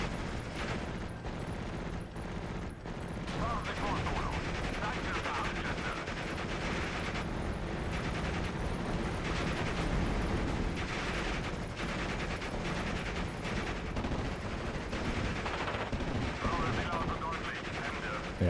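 Heavy gunfire from a Steel Division: Normandy 44 battle, with dense rapid bursts and booming shots rolling continuously over a long stretch, loud and near, with a voice talking over the shooting.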